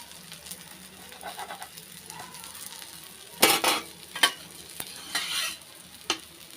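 Adai batter cooking in oil on a low flame, a faint steady sizzle with a few louder crackling bursts and the scrape of a spatula on the pan.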